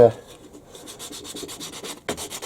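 Hand sanding with 240 grit sandpaper on a shop-made metal knurling tool part, a steady rhythmic rasping rub of repeated short strokes, close and moderately loud, with a sharper scrape near the end.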